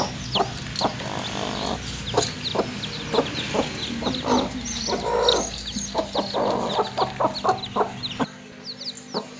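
A hen clucks repeatedly alongside the high, thin peeping of her sixteen newly hatched chicks, with scattered bird calls in an outdoor setting; steady, close, and busy throughout.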